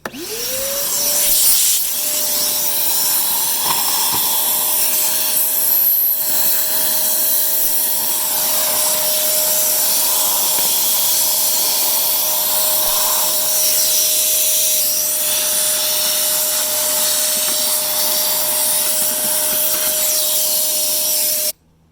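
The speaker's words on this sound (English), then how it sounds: "nuts and acorns and leaves and stuff are getting caught in the tip of the vacuum here" A loud vacuum whirs up to speed and runs continuously, with rough scraping and rattling as nuts, acorns and leaves are sucked through while cleaning a Nissan 240SX, before cutting off at the end.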